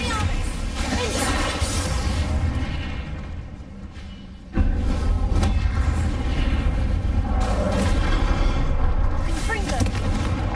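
Confringo blasting spells in Hogwarts Legacy burst as heavy, booming explosions, loud and close, with a short dip before another blast and a continuing rumble, mixed under shouted spell incantations.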